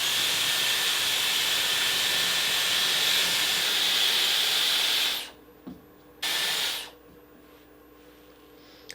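A Dyson Airwrap hair styler blows air while curling curly hair, a loud steady airy hiss that runs for about five seconds, cuts out, then returns in a short burst before stopping.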